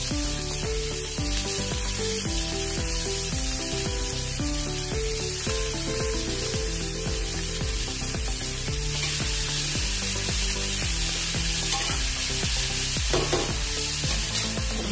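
Shredded cabbage fries in a little oil with cumin seeds, a steady loud sizzle with scraping stirs running throughout, no one talking.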